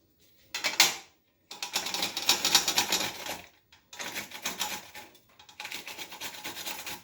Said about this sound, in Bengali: এই যে কাঁচা লঙ্কাটা রেখেছিলাম, এটাকে একটু ঘষে নেব।